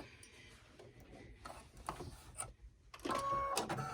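An embroidery machine running quilting stitches with Bro thread, its needle tapping in short irregular bursts that grow into a louder steady rattling whir near the end, heard up close without speech.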